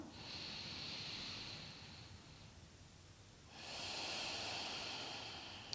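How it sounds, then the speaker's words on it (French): Deep, slow breaths during a Pilates exercise, two long airy exhalations separated by a brief pause, close and fairly loud with no talking. "Reprenez 2 respirations encore comme ça."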